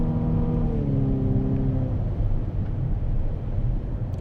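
Infiniti QX50S SUV with a 2-liter engine accelerating hard, heard from the cabin as a rising engine drone with climbing harmonics that flattens into a steady road rumble, with no talking.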